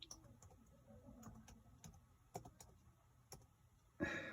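Typing on a computer keyboard: scattered key clicks and taps, fairly quiet and irregular, with a short louder burst of noise at the end.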